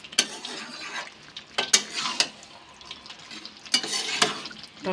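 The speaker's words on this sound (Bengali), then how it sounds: "টমেটো কেচাপটা দিয়ে আবার একবার খুব ভালোভাবে মিশিয়ে নেব।" Fig curry with tomato ketchup being stirred in a pan, a spoon scraping and clacking in bursts over a soft sizzle, close and fairly quiet.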